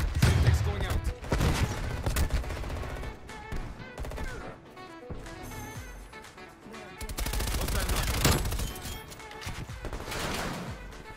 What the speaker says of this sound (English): Where's that shot from?